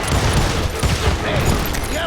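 Gunfire in the Western video game Call of Juarez Gunslinger, a dense rattling volley of shots at a homestead shootout with booming low thumps and continuous crackling throughout.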